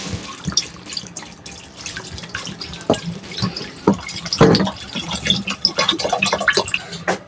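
Water poured into a cooking pot of meat set for boiling, a close, irregular splashing and gurgling run of about seven seconds with uneven bursts and drips, no voices.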